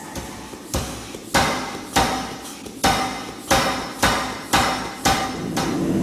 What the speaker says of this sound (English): I'm going to go into the swedge tool and turn that to 3/8 round.